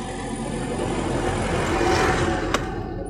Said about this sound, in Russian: Трактор проехал.